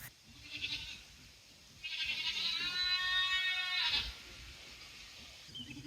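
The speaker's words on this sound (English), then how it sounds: "She's a screamer." A goat on a farm screams loudly in a long, wavering bleat at the center, with shorter cries before and after it, near and clear with no talk over it.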